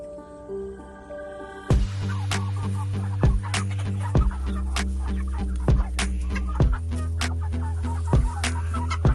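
A flock of chickens clucks in the late afternoon: close, scattered clucks and short squawks repeat over a steady low hum.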